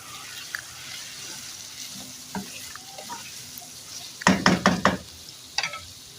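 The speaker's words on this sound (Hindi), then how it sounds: "अब इसमें टमाटर और हरी मिर्ची डाल देंगे।" Tomatoes and green chillies hit fried chicken in a pot for chicken aloo biryani, giving a soft background hiss and then a brief cluster of louder sizzling, stirring bursts.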